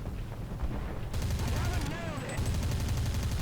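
Tank cannon fire in War Thunder from a Soviet T-60 light tank, heard as loud booming gunfire with sharp reports and rumbling low-end blasts in quick succession.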